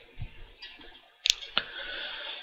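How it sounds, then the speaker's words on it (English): Computer mouse clicks while working in Etabs software, two sharp close clicks about a quarter second apart over soft room noise, no talking. "Click on OK."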